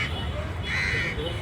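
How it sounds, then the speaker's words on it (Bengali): A crow gives one harsh caw amid the afternoon bustle of a waterlogged Kolkata street. The call is fairly close and rises briefly over a steady background of voices and crowd noise. "কাক ডাকছে"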